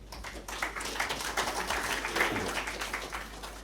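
Applause from an audience in a conference hall, steady and moderately distant, a continuous patter of many hands clapping without a clear break.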